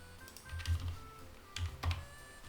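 A few soft key presses on a computer keyboard during Unity Bolt game editing, including the Alt key, sounding as scattered quiet clicks in small clusters, close and faint over low room hum.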